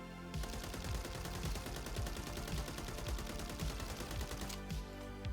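Rapid automatic bursts from an assault rifle in the game Warzone crack out in a fast, regular rhythm, close and loud, with a short pause before the firing resumes and no speech.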